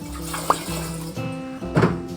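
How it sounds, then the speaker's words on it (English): A cleaning towel is rinsed under running water, giving a soft splashing and trickling wash with a couple of brief louder gushes, close by and alone. "Rinse off the towel, give it another test."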